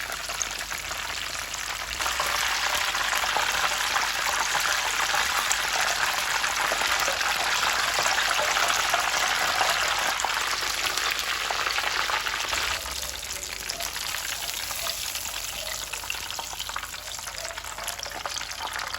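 Breaded pork chop frying in very hot oil after being turned, a steady dense sizzle and crackle that runs loud and unbroken close up, with no voices.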